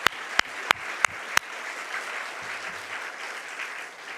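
Congregation in a church worship service bursting into applause, five sharp loud claps spaced about a third of a second apart at the start, then fading into a soft room murmur.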